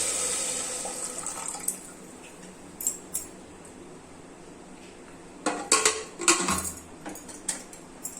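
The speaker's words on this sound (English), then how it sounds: "Now I will add 1 cup of water to it." A cup of water is poured into a pan of moong dal khichdi, a soft splashy wash followed by a few close clanks of metal utensils against the pot, with no voices.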